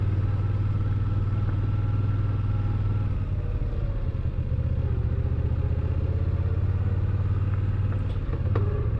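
Steady motorcycle engine drone while riding on back roads behind a Honda Gold Wing, a constant loud low rumble with wind noise that holds for the whole stretch and dips briefly midway.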